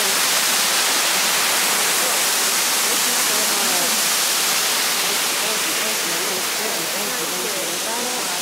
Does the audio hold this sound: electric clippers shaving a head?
no